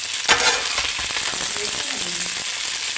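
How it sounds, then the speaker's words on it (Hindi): Okra (bhindi) frying in hot oil makes a continuous close sizzle with crackling pops and a brief stirring scrape near the start. "माशाल्लाह हमारी भिंडी फ्राई हो गई है।"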